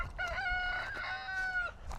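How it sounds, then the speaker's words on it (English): A rooster crows once in a long drawn-out call, moderately distant, with quiet outdoor ambience around it. "And there's the sound of the rooster."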